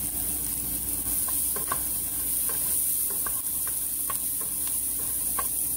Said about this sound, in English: I'm going to add my onion now, and then of course some of my minced garlic here.